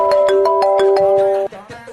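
A phone ringtone for an incoming call plays as a loud, repeating electronic melody with steady pulsed tones, then cuts off abruptly near the end.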